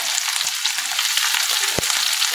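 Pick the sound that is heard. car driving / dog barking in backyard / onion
onion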